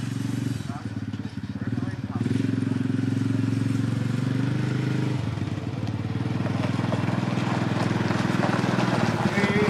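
A four-wheeler engine idles and runs nearby with a steady, loud, low rumble and a rapid rhythmic putter, while people talk over it.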